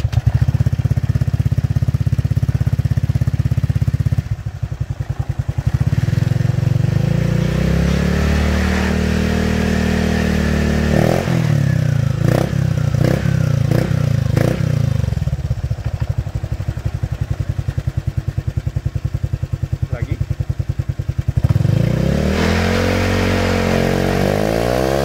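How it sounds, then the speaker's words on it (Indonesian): A Honda Vario 125/150 scooter fitted with an R9 Misano aftermarket exhaust idles with a close, throbbing burble, then is revved repeatedly in rising and falling bursts before settling back to idle. "Ini dia, kita tes sound R9 Exhaust Misano untuk Vario New ya."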